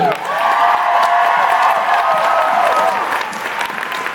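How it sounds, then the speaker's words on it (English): A fan convention crowd claps and cheers for a guest, loud sustained applause with scattered whoops filling the whole stretch and easing slightly at the end. "round of applause for Alexander"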